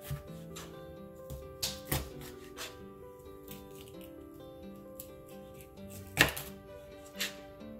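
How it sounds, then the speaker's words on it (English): A knife chops Hawaiian meatball ingredients into big chunks with a series of sharp, irregular cuts, some louder than others, quiet and close, with no talking. "I'm gonna take my knife and just kind of do some big chunks"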